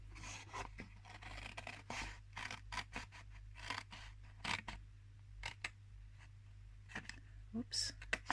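Scissors cut through patterned paper and cardstock in a string of short, close snips, some quick and some spaced out, while a person talks softly over a low steady hum.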